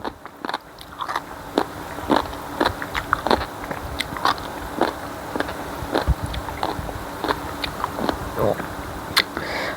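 Crunchy green papaya salad (som tam) bitten and chewed up close, a steady run of sharp crisp crunches through the whole stretch, with no talk over it.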